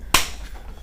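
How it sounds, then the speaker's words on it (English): One single sharp hand clap, close and crisp, cuts through a quiet room and is followed by a short fading tail. "I clapped that one time because it was good."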